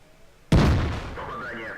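A tank main gun in a tank video game fires once and strikes its target, a single loud sudden boom out of near silence that rings and decays over a second.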